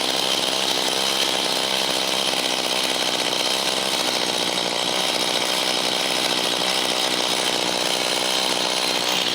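Chainsaw engine idling, a loud, continuous buzzing roar held steady and close without pauses or voices.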